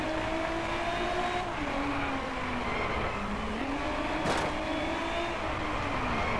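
A race car engine, including a Bentley, drones steadily in the Driveclub racing video game, its pitch rising and dipping with gear shifts, with a brief sharp burst midway; loud and continuous, no voices.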